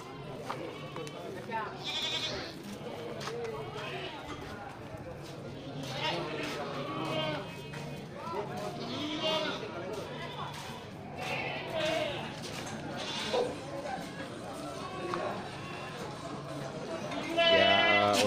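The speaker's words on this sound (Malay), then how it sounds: "kambing bandot super" Goats, including billy goats, bleat repeatedly amid a noisy crowd at a livestock market, with people talking throughout and the animal calls rising over the chatter.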